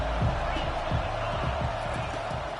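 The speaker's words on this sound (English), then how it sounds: "listen to this crowd roar" A dense college football stadium crowd roars steadily, a broad wash of noise with dull thumps underneath.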